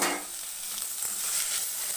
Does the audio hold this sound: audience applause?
no